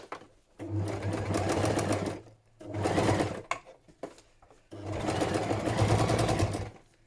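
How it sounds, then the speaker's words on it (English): A sewing machine stitches the spine of a junk journal in three bursts of rapid, even mechanical whirring, close and clear, with short pauses between runs. "I'm going to stitch it again. I want to make sure this spine is really strong"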